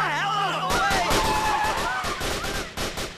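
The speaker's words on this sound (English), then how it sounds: "Oh, they're opening fire." Gunfire in Grand Theft Auto 4 during an Irish funeral shootout: a rapid, loud barrage of shots and bangs that starts suddenly, with voices speaking over it.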